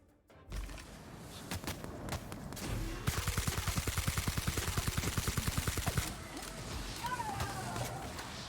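An electric weapon fires in the sci-fi game The Outer Worlds, unleashing a fast, evenly spaced burst of sharp shots lasting about three seconds, set among scattered combat noises.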